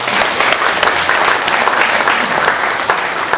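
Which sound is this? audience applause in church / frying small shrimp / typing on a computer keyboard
audience applause in church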